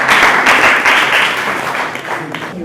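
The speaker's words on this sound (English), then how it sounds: "Clap for her." An audience at a reading event gives a sustained burst of applause, a dense wash of many hands clapping that fades slightly toward the end.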